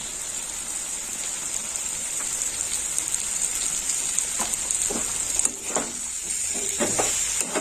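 Spices and tomato sauté for a spicy kachkel fish curry, with a dense continuous sizzle close by and scattered scraping stirs growing toward the end.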